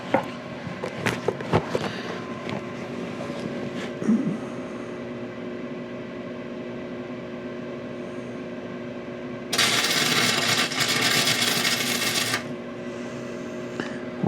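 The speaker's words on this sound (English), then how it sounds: "Just gonna put a couple little tacks on there and then weld it out with 7018." Arc welding with 7018 rods tacks steel on a sailboat hull, a steady crackling hiss that flares into a loud buzzing sizzle for a few seconds, near and continuous over a low background hum.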